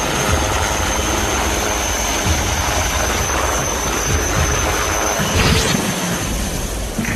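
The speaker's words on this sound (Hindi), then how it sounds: "एडवांस्ड लाइट हेलीकॉप्टर ध्रुव अकेला ऐसा हेलीकॉप्टर है जो सियाचिन की सबसे दूर मौजूद आर्मी" HAL Dhruv advanced light helicopter flying, a loud, continuous rotor and turbine roar with rhythmic blade thumping close by throughout.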